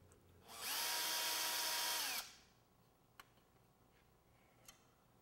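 A non-surgical drill whirs steadily at high pitch for about two seconds while drilling into the greater trochanter of a femur during hip replacement surgery, then stops, followed by a couple of faint clicks in a quiet room.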